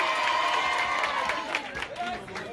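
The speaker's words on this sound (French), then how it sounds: "vous pouvez l'applaudir" An audience at a Purim film's mock Oscars ceremony claps and cheers in a short burst, a mix of clapping and excited voices, fairly loud and close, fading slightly at the end.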